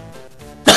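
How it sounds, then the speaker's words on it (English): A single sharp cough bursts out at the very end after a moment of quiet, close and loud. "I apologize for all the sniffles and all, like, the coughing"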